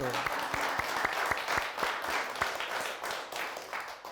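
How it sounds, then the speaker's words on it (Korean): An audience applauds during a laughter-therapy talk on letting go of negative feelings, dense broadband clapping with a few sharper individual claps standing out, steady and fairly loud throughout. "박수."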